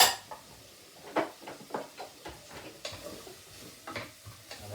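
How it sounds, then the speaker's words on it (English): Chopped vegetables for minestrone are stirred and softening in a pot, with a soft sizzle under irregular light clinks and scrapes of a utensil against the pan, faint and close. "we're going to add the vegetables. So you just fire them in."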